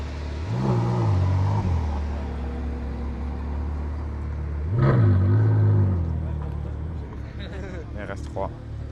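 A Ferrari 812 Superfast revs and accelerates past on a city street, with two loud rising engine surges a few seconds apart fading away, while people talk nearby.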